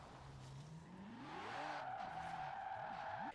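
A Shelby car in the Forza Horizon 4 racing game roars as it accelerates hard, its engine note climbing and dipping through gear shifts while the tires squeal and skid, loud and continuous with no talk.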